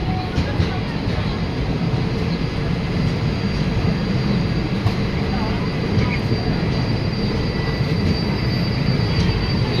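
Kolkata–Jammu express passing through Shahganj station, a steady loud rumble of rolling wagons and wheels filling the whole stretch, with faint speech-like murmur mixed into the continuous roar.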